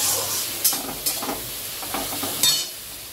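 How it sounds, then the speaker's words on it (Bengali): Chopped onions with salt frying in a pan, a soft steady sizzle broken by a few scraping stirs of a spatula, close and fairly quiet, with no talking. "পেঁয়াজটা ভাজা ভাজা হয়ে গেছে"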